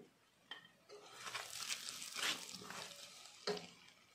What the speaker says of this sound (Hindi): ऑयल हमारा गरम हो गया है, अब इसमें हम डालेंगे जीरा। जीरे को भूनेंगे।